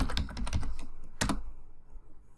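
Typing on a computer keyboard while running a Google Chrome search: a quick burst of close key clicks, a pause, then a short cluster of presses before trailing off into quiet room tone.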